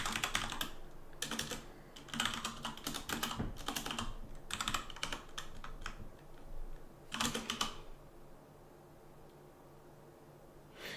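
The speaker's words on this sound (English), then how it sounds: "I was trying to use the keyboard, but it's not. It's very small" Quick bursts of typing on a very small computer keyboard, close and fairly quiet, broken by short pauses and fading to near silence near the end, with no voices.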